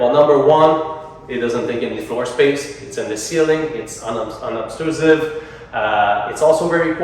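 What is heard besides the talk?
No everyday noise stands out behind the speech.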